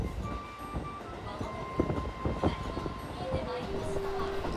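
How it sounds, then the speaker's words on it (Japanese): A single-car train passes close by in the opposite direction on a sightseeing rail line near Furano, giving a loud, steady rumble with rail clatter and a few sharp knocks, while voices murmur faintly inside the carriage. "I got a bit surprised by the single car opposing train."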